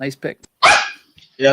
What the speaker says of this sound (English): Sorry about my dogs going nuts.